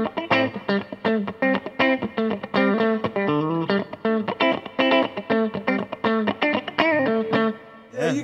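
Electric guitar played through eight overdrive pedals stacked at once, a loud saturated distorted tone with rapid picked notes and chords in a busy continuous phrase that ends in a brief flourish.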